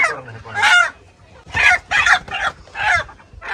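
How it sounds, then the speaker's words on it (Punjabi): A rooster that has just been caught gives loud, agitated crows and clucks in several bursts close to the microphone, with a few short gaps between them. "ਲਓ ਜੀ ਆ ਗਿਆ ਮੁਰਗਾ"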